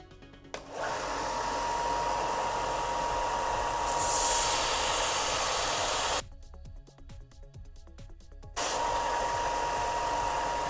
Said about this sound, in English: belt sander.